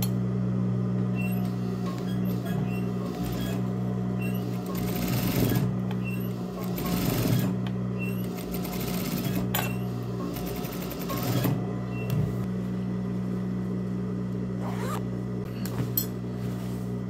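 Sewing machine stitching a lined Barbie doll skirt, a steady close mechanical whir that runs throughout with bursts of faster stitching and brief pauses, no talking.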